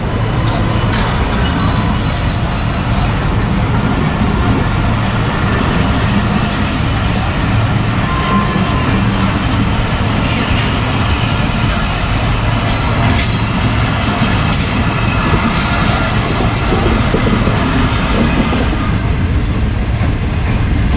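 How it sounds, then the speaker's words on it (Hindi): The Shalimar Express departs a platform on the Lahore route, a loud continuous rumble of wheels and coaches rolling close by with occasional squeals and rattles throughout. "शालीमार एक्सप्रेस जो है वो रवाना हो रही है"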